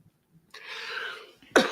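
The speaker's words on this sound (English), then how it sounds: "You need to cough that direction." A man gives a single close cough as a short burst, just after a breathy throat-clearing rasp. He is indoors during a podcast conversation.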